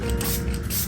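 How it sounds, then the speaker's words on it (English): Revolution Super Hold setting spray hisses from a makeup mist bottle in a short, close, steady spray of under a second, with no talking. "I'm gonna go in with the Revolution Super Hold setting spray."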